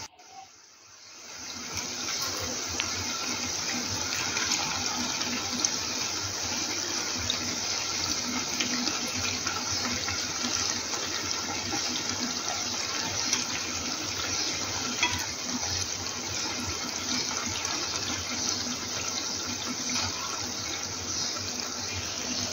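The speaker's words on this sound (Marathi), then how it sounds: "आता ही आपण ब्राऊन कलर येईपर्यंत मीडियम फ्लेमवर फ्राय करून घेऊया।" Jalebi fries in hot oil over a medium flame, giving a dense, steady hiss and crackle that starts abruptly and holds close and even throughout.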